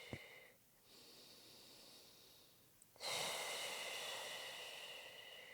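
Slow, deep breathing during a prenatal pelvic floor stretch, a soft exhale followed by a fuller, louder breath that swells and holds steadily, close and unhurried with no talking.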